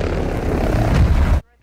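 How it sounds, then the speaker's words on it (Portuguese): A helicopter in a desert setting within a video game gives a loud, steady roar of rotor and engine that fills most of the moment before cutting off abruptly near the end. "Ah, helicóptero no deserto."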